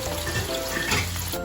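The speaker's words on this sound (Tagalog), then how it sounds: "piprito natin siya hanggang sa mag-brown na yung patatas natin" Potatoes fry in a pan with a steady close sizzle and crackle, broken briefly near the end by a soft clatter.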